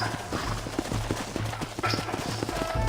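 Horses clip-clop in a Red Dead Redemption ride, a steady run of hoof knocks close by with a low rumble beneath and no talk.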